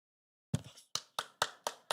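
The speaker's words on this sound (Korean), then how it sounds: "박수." A church congregation at an early-morning prayer service claps in unison, six sharp, close claps in a quick, steady rhythm that start after a moment of silence, with no talking.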